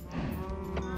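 A single short cow moo from Minecraft, a low blocky game sound effect heard close and clear, lasting about a second.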